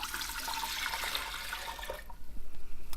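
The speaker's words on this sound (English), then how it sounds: "So go ahead and pour this into the Instant Pot." Apple cider vinegar is poured from a bottle into an Instant Pot for an elderberry remedy, giving a steady, close splashing rush for about two seconds. It ends in a few gurgling glugs.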